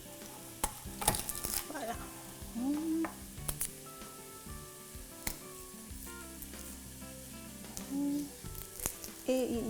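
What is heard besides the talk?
garlic cloves sizzling and stirred in pan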